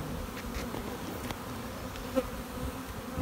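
Honeybees buzz at an open hive in a dense, continuous drone close by, with individual bees whining past now and then and no talking.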